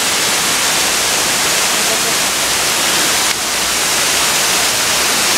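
A waterfall at Acapulco roars as a steady, loud, broadband rush, continuous and unbroken throughout with no distinct voices standing out.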